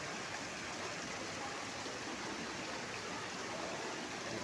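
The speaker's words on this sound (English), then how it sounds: "And the sound of the water" An indoor water fountain runs along a corridor of the Great Mall of Qatar, its splashing a steady, even rush of falling water that fills the space without pause.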